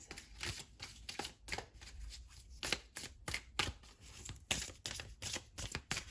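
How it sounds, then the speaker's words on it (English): Close, quiet riffling and snapping of an oracle card deck being shuffled, in repeated quick bursts with short pauses between. "So I am shuffling my oracle deck"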